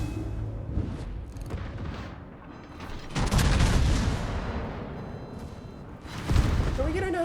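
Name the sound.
warship guns firing shots at a ship, from a video game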